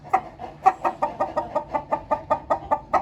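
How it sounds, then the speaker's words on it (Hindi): Rapid, rhythmic clucking from roosters, a steady run of short repeated calls close by, with no talking. "सारे मुर्गे शोर करने लगे हैं"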